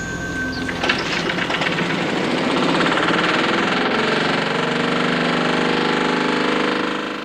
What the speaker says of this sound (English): It is the fuel that powers this engine.